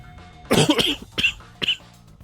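Three sharp coughs, the first harsh and drawn out, the next two shorter, spaced about half a second apart, close to the microphone.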